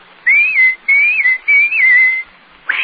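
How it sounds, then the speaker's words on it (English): Someone whistles a short wavering tune in a 1939 radio drama of Pinocchio, three clear, close warbling phrases with brief gaps between them, ending with a soft breath or rustle. "anytime you need me, just whistle like this"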